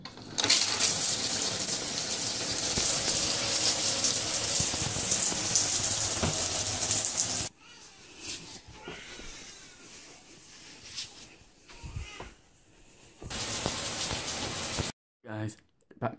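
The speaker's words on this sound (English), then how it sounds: "I'm about to get into the shower." A shower runs with a loud, steady spray of water for several seconds, then cuts to quieter muffled sounds before the spray returns briefly; a voice speaks at points.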